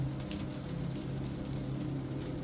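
Steady rain pours down in a dense, even hiss that holds throughout, quiet and continuous with no clear thunder rising above it.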